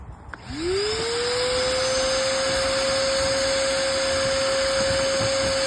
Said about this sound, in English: We're gonna put the other end of the vacuum on this and we're gonna suck as much air out as we can.